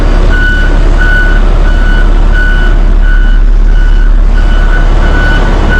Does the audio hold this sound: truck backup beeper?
yes